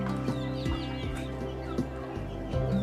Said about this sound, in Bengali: এই ধরনের একটা খোলামেলা খামার পেয়ে মুরগিরা কত খুশি, তারা খুব আনন্দেই আছে